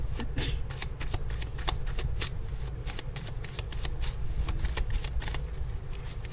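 Handmade oracle cards shuffled in the hands during a tarot-style reading: a steady, continuous run of close riffling and flicking card sounds, loud and near, with no talking.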